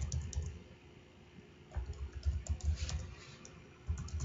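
Typing on a computer keyboard while entering values into a cloud routing setup, with soft clustered key clicks in short bursts, then a pause and a denser run of taps, heard alone and close.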